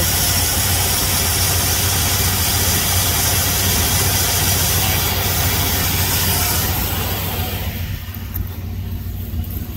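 A 1980s Ford Econoline E150 van, about 43 years old, idles after sitting through winter, a constant low rumble that holds steady and eases slightly near the end; nobody speaks.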